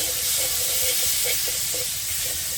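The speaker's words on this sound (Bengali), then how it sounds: "এবারে আমি জল দিয়ে দিচ্ছি," Water poured into a pan of hot frying spices for a fish curry with bitter greens, giving a continuous loud hiss and sizzle with some soft bubbling, close and alone.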